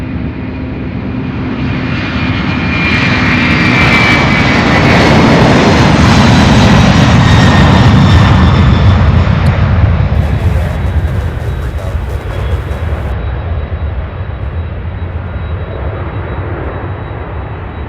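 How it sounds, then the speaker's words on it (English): A Boeing 777 missing a wheel comes in to land at the airport, a loud jet roar that swells over several seconds and then slowly fades, with no talking. "watching that 777 come in for a landing, the one with the lost wheel."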